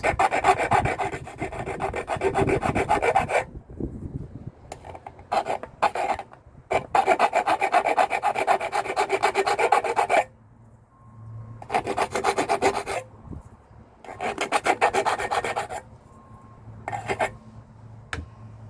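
Metal edges are filed smooth on a homemade camping stove, long rhythmic rasping strokes in several bursts separated by short pauses, close and steady with no talking.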